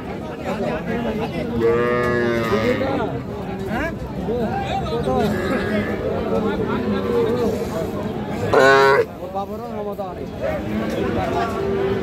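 Cattle calves at a livestock market low out in repeated moos, two long calls standing out over steady crowd chatter and bargaining voices.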